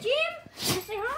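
A single sharp sneeze bursts out partway through, set between bits of nearby indoor talk from a person addressing a dog.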